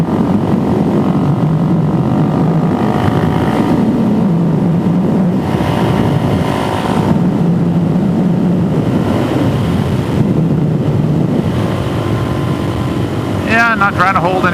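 Motorcycle engine droning steadily while riding, with heavy wind rush across the microphone and a voice talking over the ride.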